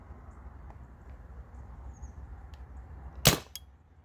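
A Spyder Rodeo old-school paintball marker with an STBB and new springs fires over a chronograph: one sharp, loud crack near the end, then a softer echo-like tick, over a low steady background hum.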